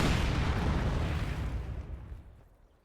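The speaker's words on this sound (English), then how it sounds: "Nice heavy mortar hit forces that machine gun to retreat" A heavy mortar shell exploding in a World War II video game, one loud, broad blast that rolls out and fades over a few seconds.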